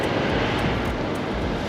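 Steady wind rushes past a sailboat in the Bahamas as it heads toward anchorage near a beach, a continuous broadband roar like engine drone with no voices.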